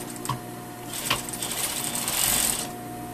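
A sewing machine stitches the front seam of a tailored jacket sleeve, its needle whirring steadily and close, with a couple of sharp clicks early on and no talking.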